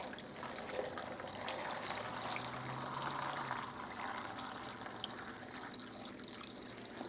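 Liquid is poured into a crock pot for apple cider with dried orange slices, a steady, continuous trickling pour running close and alone for several seconds.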